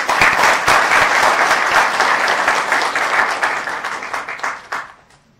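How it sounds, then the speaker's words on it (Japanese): A ceremony audience at a Japanese manga awards event gives warm applause to the prize winners, full sustained clapping with sharp individual claps standing out, tapering off and fading to near silence at the end. "受賞者の皆様にもう一度温かい拍手を送りください。"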